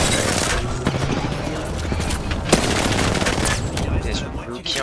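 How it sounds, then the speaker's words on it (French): Rapid gunfire in the shooter game Apex Legends, dense and continuous with overlapping bursts and sharp cracks, loud and close amid busy in-game noise. "On me tire dessus, les amis."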